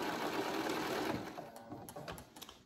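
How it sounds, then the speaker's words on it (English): A sewing machine stitches flange binding, its steady motor whir running continuously for over a second before breaking into short bursts and pauses near the end. "And we're going to start sewing."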